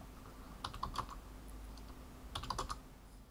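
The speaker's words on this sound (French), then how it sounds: "en rentrant 2 fois mon mot de passe" Computer keyboard typing of a password entered twice, two short clusters of soft key taps separated by a pause, close and quiet with no speech.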